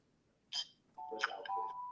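Electronic telephone ring for a podcast call-in line, two short tonal bursts followed by a sustained ringing tone, close and clear with no talk over it.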